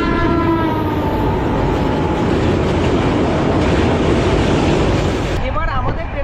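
Sealdah Rajdhani Express running on rails, a loud, close, continuous rumble with steady clatter and a passing rail tone, with a brief shift near the end.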